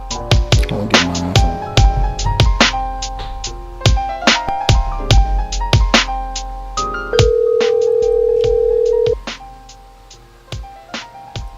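Phone ringtone plays as a loud electronic melody of repeated synthetic tones, then a sustained steady tone of about two seconds, alone with no voices.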